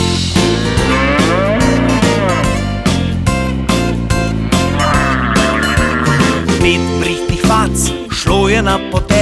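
Cow moo heard within a loud, busy children's song, blending with dense sung music and instruments throughout.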